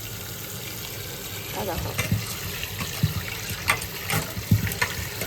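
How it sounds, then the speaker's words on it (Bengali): Water swishing and splashing over tuar and other lentils being rinsed by hand in a home kitchen for dosa batter, in irregular bursts under a brief spoken word. "এবার এটাকে আমি জল দিয়ে ভালো করে ধুয়ে নেব।"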